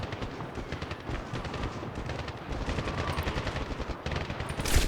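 Rapid, sustained gunfire from the 2010 video game Medal of Honor, dense automatic bursts running continuously and loudly throughout, with a heavier shot near the end.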